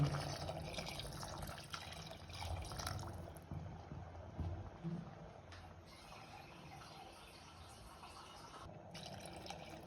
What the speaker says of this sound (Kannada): ಅಳತೆ ನೋಡಿಕೊಂಡು ನೀರು ಹಾಕೊಳ್ಳಿ,